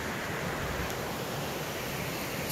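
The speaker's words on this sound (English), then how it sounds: "And then it goes on down a few more little waterfalls." Small waterfalls at a campground pour in a continuous broadband rush, loud and steady throughout with no voices.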